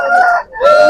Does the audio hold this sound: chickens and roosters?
yes